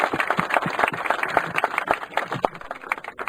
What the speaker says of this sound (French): je voudrais qu'on applaudisse l'association et son président Antoine Sanchez